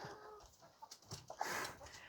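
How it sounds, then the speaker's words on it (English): Free-range chickens cluck softly in short, scattered bursts nearby, quiet and irregular, with no voices. "I let the chickens out because they like to go free range"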